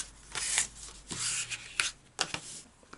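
A paper boomerang airplane wing being folded by hand, with close crisp rustles and creases in several short sweeping strokes and a few sharper crinkles.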